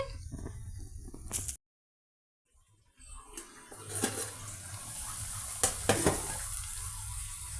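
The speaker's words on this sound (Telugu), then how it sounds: "మన టమాటా పీసెస్ కూడా చక్కగా భెండి పీసెస్తో మిక్స్ అయిపోయి ఈ విధంగా చక్కగా ఫ్రై అయ్యాయండి" Okra and tomato pieces frying in a pan over a medium flame, a soft continuous sizzle broken by a short silence, then stirring scrapes and crackles as the frying resumes.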